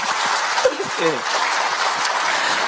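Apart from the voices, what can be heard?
audience applause at a panel discussion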